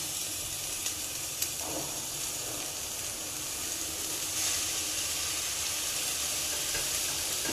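Red amaranth leaves go into browned onions frying in a pan, making a steady, close hiss and sizzle that runs throughout with faint stirring and no voices.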